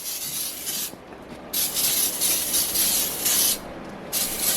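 Several bursts of hissing spray, each lasting about a second, with short pauses between them, close and fairly loud.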